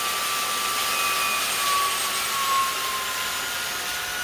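A MOOSOO K24 cordless stick vacuum runs on eco mode with a loud, steady, airy whine and faint high tonal lines. It hums continuously up close, alone, with a slight swell near the end.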